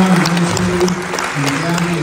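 An audience at an airliner enthusiasts' banquet dinner claps for the crew, a moderately loud burst of applause with voices talking over it.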